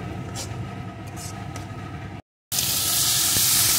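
Spice masala for restaurant-style egg curry fries in oil over low heat, giving a steady, close sizzle and hiss that breaks off briefly in a cut, then returns brighter and louder.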